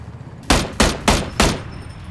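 Four loud, evenly spaced gunshots ring out in quick succession in the video game PUBG, each a sharp crack with a short decaying tail, over a quiet background.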